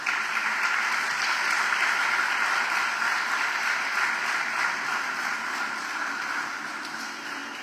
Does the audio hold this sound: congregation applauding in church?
yes